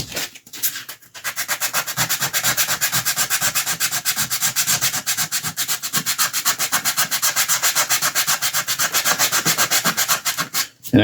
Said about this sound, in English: I've got a fine sanding sponge